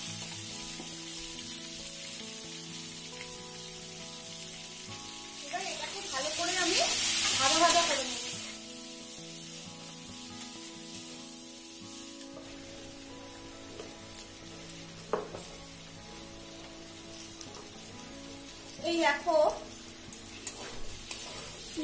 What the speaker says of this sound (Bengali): আর দেখো কুচনো পেঁয়াজ দিয়ে দিচ্ছি।